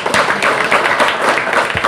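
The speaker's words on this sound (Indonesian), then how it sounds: "Tepuk tangan saya." Loud, close clapping from an audience at a talk, a short dense burst of hand claps with scattered thumps, lasting under two seconds and heard alone.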